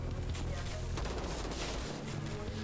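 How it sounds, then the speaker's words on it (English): Dense, sustained automatic gunfire from the shooter VLADiK BRUTAL, loud and continuous with overlapping bursts and a low rumble underneath, with no pause across the whole stretch. "I hear machine gun shooting from there"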